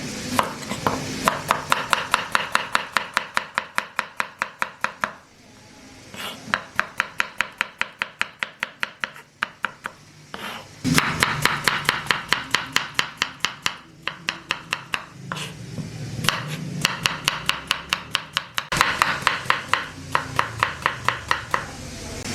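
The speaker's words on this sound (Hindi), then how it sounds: "सबसे पहले इसको काट लेते हैं बारीक बारीक।" A knife chops five small onions finely on a board with fast, crisp, close-up strokes. The chopping comes in long rapid bursts separated by brief pauses, with no talking.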